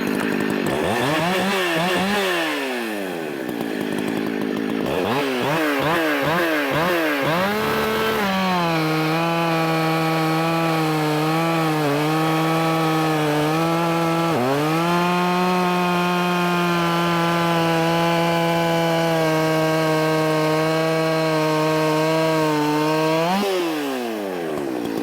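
A Husqvarna 268 chainsaw with a modified muffler cuts wood, revving in several rising bursts before holding a loud, steady high-pitched scream for most of the run, briefly dipping midway, then winding down at the end. No one speaks.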